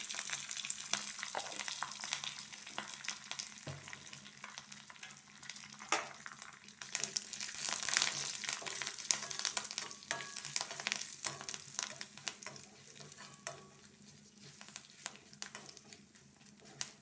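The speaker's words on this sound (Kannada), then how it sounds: "ಸಾಸಿವೆ ಸಿಡಿತಾ ಇದೆ. ಕರಿಬೇವು ಹಾಕ್ತೇನೆ." Mustard seeds and curry leaves crackle and sputter in hot tempering oil for a cucumber majjige huli, a close, busy sizzle with sharp pops and stirring scrapes throughout.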